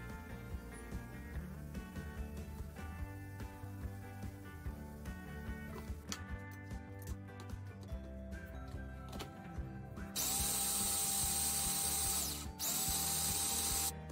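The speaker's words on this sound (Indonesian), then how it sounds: "Karena tempat choppernya kecil, jadi aku menchoppernya 2 kali." A small electric food chopper whirs and grinds Marie Regal biscuits into crumbs, with rattling, clattering pieces early on, then steady loud motor bursts near the end, separated by a brief pause.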